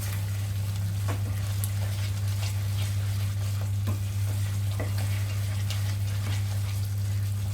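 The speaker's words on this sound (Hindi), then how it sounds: "इसको मैं 1 से 2 मिनट फ्राई करूंगी, जब तक साइड में ऑयल आ जाए।" Veg kofta masala fries in oil in a pan, giving a constant crackling sizzle with occasional scraping stirs over a strong low steady hum, continuous and close.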